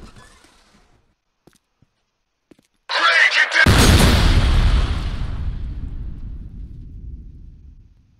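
After a near-silent stretch, a sudden burst of crackling is followed by a heavy boom that rumbles and slowly fades, like fireworks going off outside.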